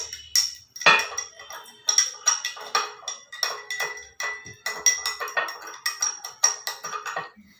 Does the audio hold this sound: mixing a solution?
yes